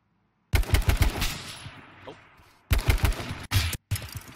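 Gunshots in the video game H1Z1 crack out in rapid automatic bursts, several tight clusters separated by brief silences, loud and close.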